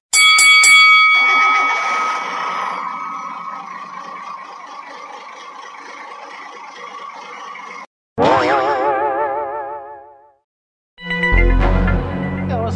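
A bell is rung to signal a bus to start, a sustained, ringing tonal chime lasting several seconds, then a wavering mechanical whir and a brief engine-like rumble.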